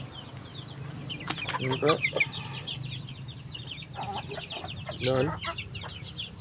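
Sixteen chickens freed from their coop cluck and squawk in a steady, close chorus, with bursts of louder calls rising above the flock; someone speaks briefly between them.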